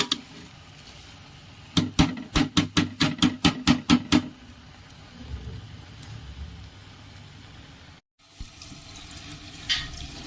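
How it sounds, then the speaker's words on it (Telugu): Water is poured from a glass into soaked rice in a pot for biryani, a quick run of rhythmic glugging splashes, then quieter trickles and stirring. "సో 1 గ్లాస్కి 2 గ్లాసెస్ వాటర్ వేసుకోవాలి."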